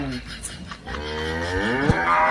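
A cow at a cattle market gives one long, loud moo with a rising, strongly harmonic tone, close by, over a low murmur of market background.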